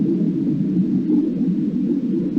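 River dolphin echolocation noises in a 1995 PC jungle exploration game, a steady low warbling hum with faint clicking texture that holds at an even level throughout, no voices.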